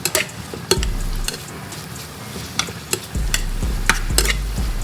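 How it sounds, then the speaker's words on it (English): Shrimp sizzle and fry in a pan while being stirred, with steady crackling under frequent scrapes and clinks of a utensil against the pan, close and continuous. "I'm gonna keep stirring up this shrimp over here."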